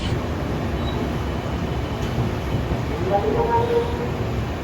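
Steady, even rumble of the Amrit Bharat Express running, heard from inside the carriage, a continuous low roar of wheels and rails with no breaks, sounding close all around.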